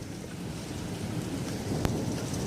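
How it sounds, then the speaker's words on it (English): Heavy rain pours steadily during a thunderstorm with hail, a dense continuous hiss, and a short sharp crack of thunder breaks through near the end. "Look at all the rain we're getting. Everything's all wet. Listen to the thunder."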